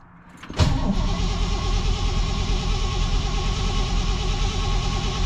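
A 1959 Chevy Bel Air V8, started after winter, fires with a sudden burst and settles straight into a loud, steady, lumpy idle close by.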